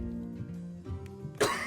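A person coughing, a rough harsh burst near the end of the clip over a faint tonal background, close to the microphone, with no speech.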